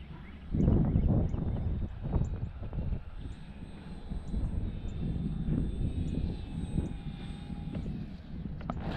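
Small fixed-wing aircraft taking off with takeoff flaps set, its engine droning loudly and steadily from the start, with a rising surge near the beginning and continuous wind and rumble throughout.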